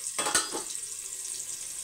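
Fennel seeds and other spices fry in hot oil in a pan for a Tamil home-cooked dish, opening with a loud burst of sizzle and a quick stir clatter, then settling into a steady, close hiss.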